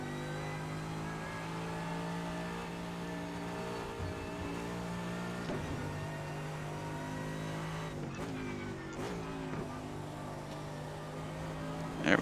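A GT3 race car engine in the iRacing sim at Road America drones steadily at high revs, its tone dipping and climbing through gear changes and braking near the end, loud and continuous with no voice over it.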